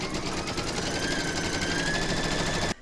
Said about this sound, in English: You can now pop that back into your machine and stitch round number two